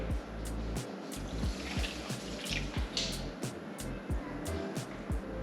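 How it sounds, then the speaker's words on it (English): A cup of water poured into a pan of sugar for homemade caramel creamer, a steady close liquid splash and trickle with faint clinks, no talking. "Now you take 1 cup of water and put that in with the sugar."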